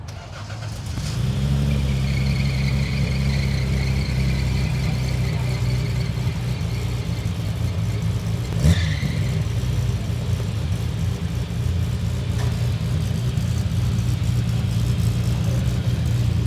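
A car engine with a lumpy cam cranks, fires up, then settles into a loud, choppy, uneven idle, with a brief rev partway through, heard close up and with no talking.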